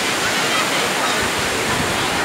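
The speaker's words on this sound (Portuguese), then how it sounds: "Olha a água aí, ó." Sea water at Praia do Peró beach in Cabo Frio, Brazil: a steady, dense roar of surf and wash filling the whole moment at full loudness, with no clear breaks or separate waves.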